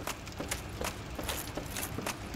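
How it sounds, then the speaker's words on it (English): Footsteps in the Dark Souls: Remastered game, a run of quick, evenly spaced steps close by, each a short sharp knock over a steady background bed with no talk. "I can hear footsteps."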